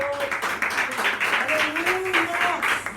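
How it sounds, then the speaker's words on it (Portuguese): A church congregation applauds during a Portuguese-language worship service, giving steady clapping under a voice speaking over it. "Você aplaude o Senhor por essa vida."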